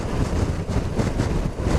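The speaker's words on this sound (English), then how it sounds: "It's quite a windy day today" Steady wind buffeting the microphone while riding a 2022 CF Moto 650 MT motorcycle, a continuous low rumbling roar with gusty fluctuations and no voices.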